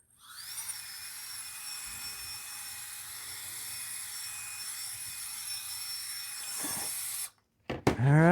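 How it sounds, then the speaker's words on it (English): A handheld blower whines steadily as it blows dust off a Tamiya Holiday Buggy RC body, a high-pitched constant tone held for about seven seconds, then a brief cut and a couple of close bumps. "Blow it away with this blower."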